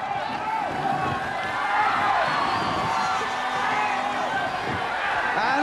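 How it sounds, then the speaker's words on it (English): A crowd cheering at the Jeux Sans Frontieres 1981 heat in Sunderland as the Belgian team goes in: a steady wash of shouts and whoops from a distant outdoor audience, with a commentator talking over it. "And a cheer when the Belgians go in."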